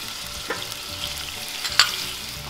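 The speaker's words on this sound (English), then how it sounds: "You saute until you can smell the garlic and the onions." Garlic and onions sautéing in hot oil, a close continuous sizzle with soft stirring scrapes and one sharper clink near the end.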